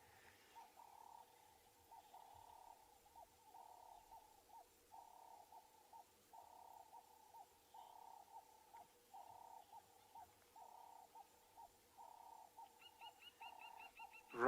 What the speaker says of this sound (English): You can hear some of the birds calling.